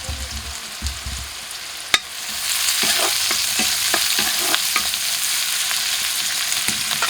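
Leafy greens sizzle steadily in a pan with dried chilies and onion, with scraping spoon strokes and clinks of stirring over the continuous frying hiss.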